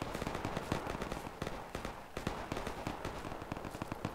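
Rapid bursts of automatic rifle fire and scattered single shots crackle continuously in a Project Reality infantry firefight, dense overlapping gunfire at moderate distance with no clear voices.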